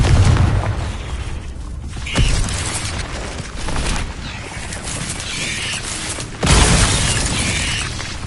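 A Confringo spell explodes in Hogwarts Legacy, loud booming blasts with shattering debris, two sharp bursts standing out around the middle and near the end amid rumbling noise.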